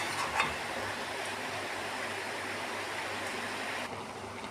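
Hot water poured into a cooking pot of shrimp and taro stolon curry runs as a continuous gushing rush, close and fairly loud, then cuts off near the end.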